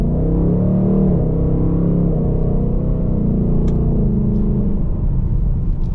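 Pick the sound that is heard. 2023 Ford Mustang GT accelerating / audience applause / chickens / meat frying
2023 Ford Mustang GT accelerating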